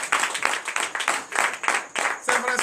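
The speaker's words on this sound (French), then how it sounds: "Donnez l'acclamation à Jésus." A congregation at a night deliverance and prophecy service in Bénin claps and cheers in acclaim, with steady rhythmic bursts of hand claps and raised voices filling the room.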